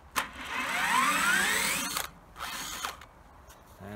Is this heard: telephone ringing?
no